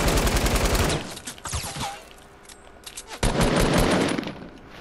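Rapid automatic gunfire from a video game, loud dense bursts in the first second and again after the three-second mark, with quieter scattered shots and game effects in between.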